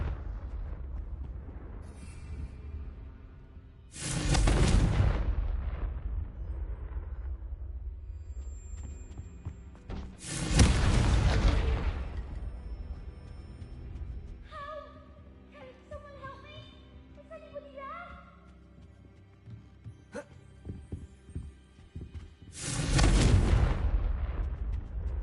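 Confringo fire spell explosions in the Hogwarts Legacy video game: three loud, broadband blasts roughly six seconds apart, the second followed by a flurry of bright tonal magic effects, over a steady low rumbling game ambience.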